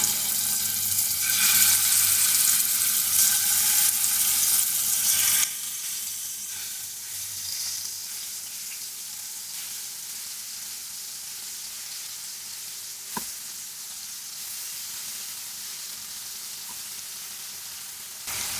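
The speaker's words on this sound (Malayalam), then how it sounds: "ഓയിൽ ഇപ്പോൾ ചൂടായിട്ടുണ്ട് നമുക്ക് പ്രോൺസ് തിളക്കിയിട്ട് കൊടുക്കാം" Prawns fry in hot coconut oil in a pan, giving a loud, dense sizzle for the first few seconds that then settles into a quieter, steady crackle with one sharp clink partway through.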